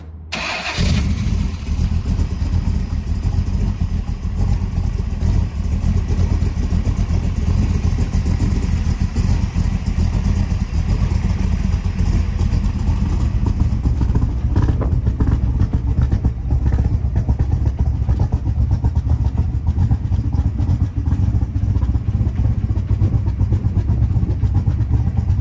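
A 1965 Shelby Cobra Backdraft engine runs loud and steady close by for the whole stretch, a deep rumbling idle that swells into revving partway through, with no talking over it.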